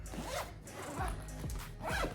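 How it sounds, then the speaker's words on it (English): A zipper closing the front pocket of a packed travel bag, several quick rasping pulls in a row, close and fairly quiet, with no voice over them. "I'll zip this up"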